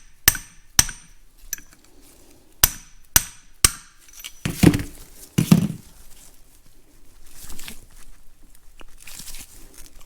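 Sharp metallic taps knock dry planetary gear needles out of an Ampli-Torque unit, six quick strikes in two groups of three, followed by a couple of duller clunks and quiet handling.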